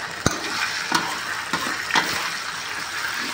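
Bay leaves, tamarind pieces and whole bird's-eye chilies drop into hot oil in a frying pan, giving a steady close sizzle broken by four sharp utensil clicks and scrapes as the mix is stirred.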